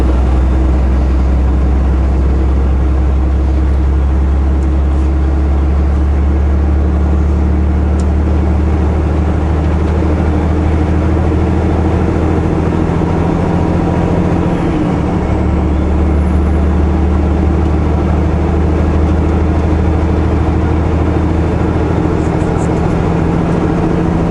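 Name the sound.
car driving and accelerating on a highway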